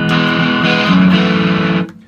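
Electric guitar through a T-Rex distortion pedal with the gain turned to maximum: one sustained, moderately driven chord rings loud and steady for under two seconds, then cuts off abruptly.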